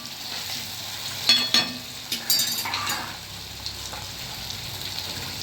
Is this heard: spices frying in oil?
yes